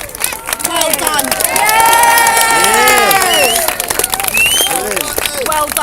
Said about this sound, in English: Lots of applause for that.